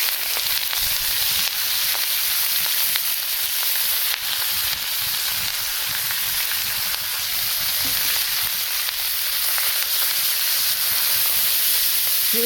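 Leafy greens fry in a pan in a rural Indian home kitchen, cooked to a family recipe. They give a continuous, even, close sizzle and hiss for the whole stretch, with no one talking.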